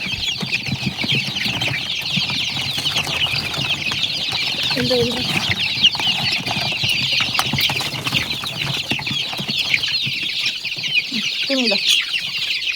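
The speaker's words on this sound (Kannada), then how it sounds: "ನಮ್ಮ ಕೋಳಿ ಮರಿಗಳು ಹೆಂಗೆ ಕಿತ್ತಾಡ್ತಾ ಇದ್ದಾರೆ" Native country chicks cluck and peep continuously while scrambling and squabbling over cabbage leaves in a Malenadu coffee-estate yard, with a steady high chirping chorus and a few louder calls near the end.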